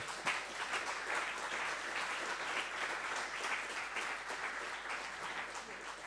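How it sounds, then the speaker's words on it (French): Sustained applause from an audience at a viticulture and agroecology event in Marciac, dense steady clapping filling the whole stretch without a break. "vous pouvez l'applaudir"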